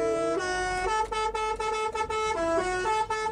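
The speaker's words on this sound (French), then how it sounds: "Tu vois, tu klaxonnes un coup, puis ça fait plaisir." A loud MAN truck horn honks repeatedly in short and longer blasts, a brassy multi-tone toot sounding close by.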